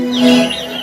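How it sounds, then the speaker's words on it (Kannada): One brief, loud bird chirp with a rising and falling whistle sounds close by, over a steady tonal hum. "ಚಿಲಿಪಿನ ನಾದದಿಂದ ಜೇಂಕರಿಸುತ್ತಿರುವ ಹಕ್ಕಿ ಪಕ್ಷಿಗಳ ಕೂಗು"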